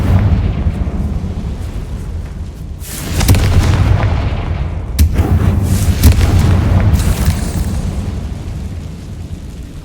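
Bombarda and Confringo spells in Hogwarts Legacy set off loud explosive booms in a tall room, heavy blasts landing a few seconds apart and each trailing off into rumble.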